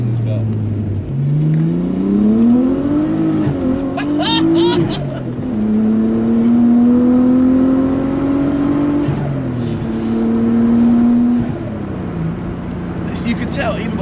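An RB25-engined Nissan 200SX with a welded diff drives past, its engine rising and falling through the rev range, loud and close, while people talk over it.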